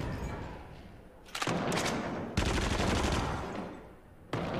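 Submachine gun fire in the Until Dawn: Rush of Blood virtual reality shooter, rapid sustained bursts of automatic shots in several separate volleys, loud and close, with no talking.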